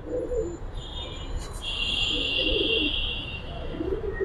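Old-line hammer pigeons coo softly from a loft, several low rolling murmurs spread across the moment, close by against a steady hum with a thin high whine.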